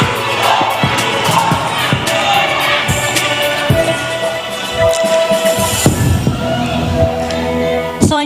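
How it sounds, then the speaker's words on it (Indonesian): A dense, loud crowd roar at a Manado mayoral election debate fills the whole stretch, with cheering, shouts and pounding beats mixing into a continuous festive din. "Kita beri tepuk tangan yang meriah untuk pasangan calon nomor urut 2."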